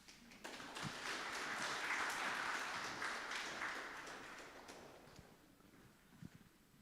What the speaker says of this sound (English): Then please applause.